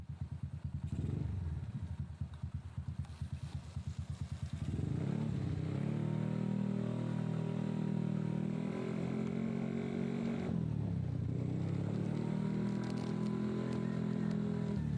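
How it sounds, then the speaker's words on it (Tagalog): A motorcycle engine idles with a rattling chug, then revs up and pulls away, its steady drone holding loud and close with a brief dip in the middle. "paalis na po ako gamit ang aking motor"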